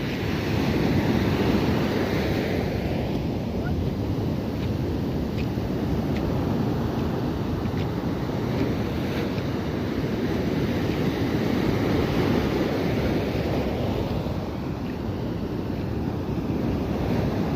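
Strong coastal wind roars over crashing sea waves in a continuous loud rush, with heavy buffeting on the microphone and no voices.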